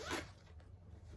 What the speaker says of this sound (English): Don't zip it in there.